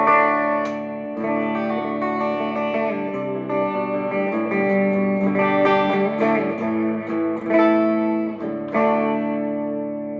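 A 2002 Epiphone Korina Flying V played clean through a Fender Blues Jr. III amp with some reverb, sustained chords and picked notes ringing steadily with no speech.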